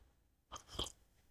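Black coffee being sipped: after a quiet pause, a short slurp bursts in, then a second louder sip, close and alone with no talking.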